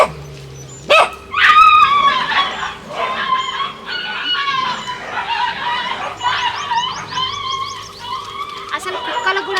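Several street dogs bark, yelp and whimper in an alley scuffle, with rapid overlapping yips close by and a sharp bark burst early on, continuing steadily throughout.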